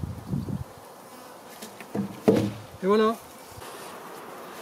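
Honeybees hum in a steady, soft drone around an open beehive during an inspection, while someone speaks a few brief words nearby.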